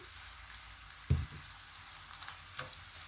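Garlic paste and salt go into onions already browning in a pan, giving a faint steady sizzle with a soft thump and a brief splutter as the paste lands, and nobody talking.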